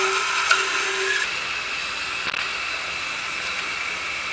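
A belt grinder fitted with a waterfall integral plunge attachment grinds a workpiece at slow speed, giving a steady close rasping hiss with a faint repeating tick from the belt seam and a small drop in level after the first second.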